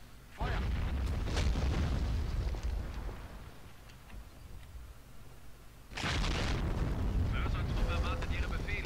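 Rocket explosions in the WWII strategy game Company of Heroes: a heavy booming blast opens the stretch, the rumble fades, then a second big eruption of bursts hits near the end, with voices talking in the game.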